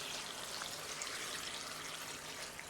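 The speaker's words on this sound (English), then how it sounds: "I'm going to pour some water." Water pours steadily into a pot of washed sorrel for a Jamaican sorrel drink, a continuous close splashing stream with no pauses and no talking.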